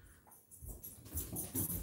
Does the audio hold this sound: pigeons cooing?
no